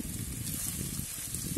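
Methi paratha frying in oil on a hot tawa, giving a steady, even sizzle with crackling pops throughout, close by and with no one speaking.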